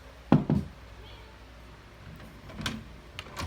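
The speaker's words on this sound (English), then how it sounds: "I'm gonna knock." Knocking on a house door to a sewing room, a loud close knock near the start followed later by a few lighter taps, with quiet room tone in between.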